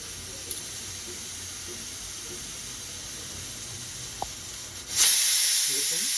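A pressure cooker cooking rajma hisses steadily with steam, then bursts into a louder, sharper rush of escaping steam near the end, close and continuous.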